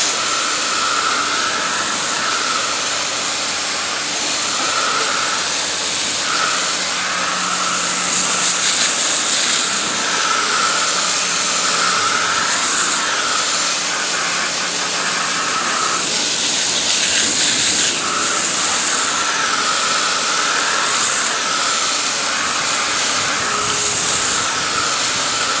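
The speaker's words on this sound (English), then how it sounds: "I'll simply rinse off the tire with a garden hose and a nozzle" A garden hose with a spray nozzle rinses a vehicle tire, producing a loud, continuous close-up hiss of water spray with small shifts as the stream moves across the rubber.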